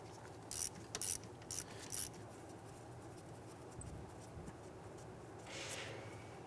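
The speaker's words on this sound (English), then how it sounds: "We're going to use an 8mm socket, loosen and remove the bolt holding that." Ratchet with an 8mm socket loosening an ABS sensor bolt on the rear knuckle of a 2011-2019 Ford Explorer, four quick close ratcheting bursts followed by faint handling noise.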